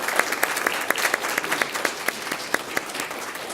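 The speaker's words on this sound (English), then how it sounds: "let's give her a round of applause as she makes her walk over there." A crowd applauds steadily, a dense wash of clapping with a few sharper individual claps standing out, sustained throughout without any talking.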